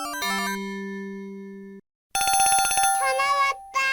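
Ringtone of a SKY IM-7100 mobile phone for an incoming call: clear electronic tones, a short melodic run and a long held note, then after a brief gap a rapid trilling ring pattern, loud and close.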